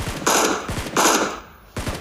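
Gunfire in a battle royale video game: two loud bursts of rapid shots a moment apart, then a third burst starting, close and sharp with no talking over it.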